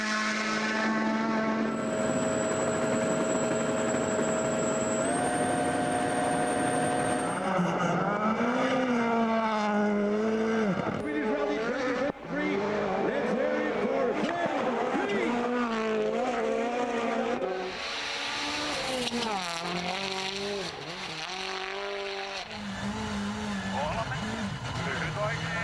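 WRC rally cars race at Rally Sweden with loud engines howling and shifting through gears, repeated rising and falling pulls as they pass, with a voice speaking intermittently over the racing.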